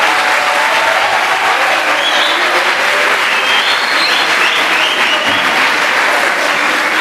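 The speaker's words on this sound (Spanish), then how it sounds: "Queremos despedir con un gran aplauso al doctor Gómez." Sustained, loud applause from a large audience at the opening of an interactive expo, honoring a departing doctor, with steady dense clapping all the way through.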